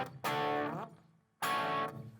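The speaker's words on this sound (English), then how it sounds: "I'll put a little bit of distortion on here" An electric guitar with a distortion effect plays open chords, with two thick, buzzy strums that ring and decay, separated by a short gap.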